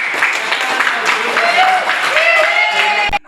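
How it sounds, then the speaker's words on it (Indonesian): A classroom audience claps for a student group about to present in a university teacher-training session, with dense, steady applause filling about three seconds before stopping abruptly. "Tepuk tangan buat kelompok 4."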